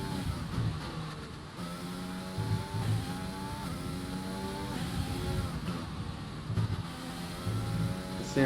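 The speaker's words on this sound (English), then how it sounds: "Let's crank up that engine." A race car engine revs in a racing video game career-mode race at Russia, a sustained droning roar with rising and falling gear pulls, steady and fairly loud throughout.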